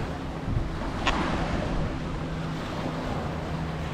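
Steady wind blowing along a coastline, a continuous broad rushing wash with gusty rumble against the microphone and no one talking.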